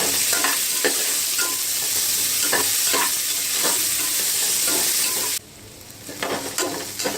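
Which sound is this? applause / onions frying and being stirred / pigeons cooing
onions frying and being stirred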